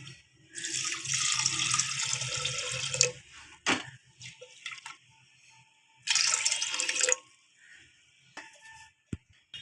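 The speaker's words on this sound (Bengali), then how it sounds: "পরিমাণ মতন জল দিয়ে দেবো" Water pours from a tap onto washed moong dal in a kitchen, two separate bursts of steady splashing a few seconds apart, with small clinks and knocks of the pot between them and no talking.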